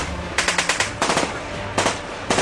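Machine gun fire during a military operation in mountainous terrain comes as several rapid bursts of sharp, loud reports over a steady rushing background.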